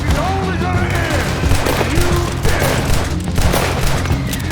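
Gunfire in the video game Red Dead Redemption II, a loud, dense run of rapid shots and booms layered over game music, with tonal sounds and possible voices mixed in.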